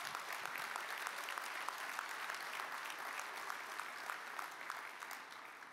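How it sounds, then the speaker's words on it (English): An audience at a Small Business Administration recognition event gives sustained applause, dense even clapping that is moderately distant and continuous throughout. "Let's give them a big round of applause"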